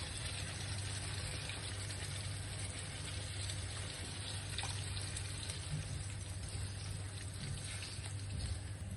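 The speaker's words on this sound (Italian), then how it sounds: "Aggiungo un po' di acqua" Water poured into a pan of eggplant and tomato passata cooking for pasta with eggplant ragù, a steady, continuous splashing hiss like running liquid that holds evenly throughout, with no talking.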